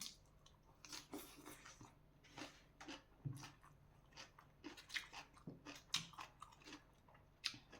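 Crunchy wild garlic being bitten and chewed close by, eaten alongside spicy cucumber salad: faint, repeated crisp bites and chewing at an irregular pace, with no talk.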